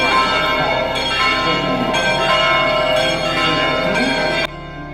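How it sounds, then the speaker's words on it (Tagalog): Church bells ring at a parish church to mark the end of the first mass, a rich, sustained metallic tolling with repeated strikes every second or so, fairly loud, stopping abruptly near the end. "Yan pong narinig niyong tunog ng kampana ay hudyat po yan na tapos na po ang unang misa"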